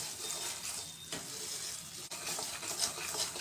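Flour being roasted and stirred in a pan for adadiya pak, a soft continuous scraping and gentle sizzle with occasional spoon knocks, close and fairly quiet.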